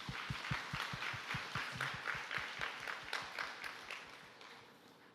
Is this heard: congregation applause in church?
yes